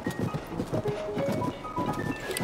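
A horse gallops in the Zelda Tears of the Kingdom video game, quick rhythmic hoofbeats repeating close up over faint game tones, with no speech.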